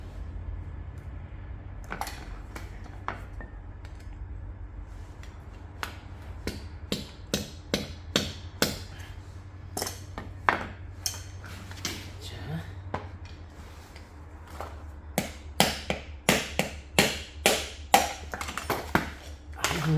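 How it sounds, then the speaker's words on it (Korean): Sharp metallic hammer taps on a faulty electronic brake caliper being taken apart, sparse at first and then coming in quicker irregular clusters, ringing briefly over a low background hum. "빼려면 망치로"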